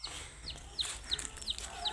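Chickens on a farm cluck in short, bright bursts over steady low background noise, several calls spaced through the moment at moderate distance.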